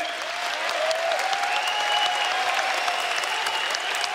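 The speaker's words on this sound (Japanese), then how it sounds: "拍手に迎えられます。" Steady applause from a large crowd in an arena at a RIZIN fight event, dense and sustained clapping that fills the space without a break.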